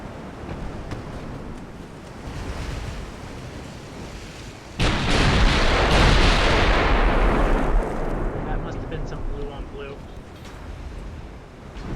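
Heavy naval artillery booms and rumbles in the Ultimate Admiral Dreadnoughts warship game, with a loud sustained broadside roar midway over continuous sea and battle noise, and someone talking over it.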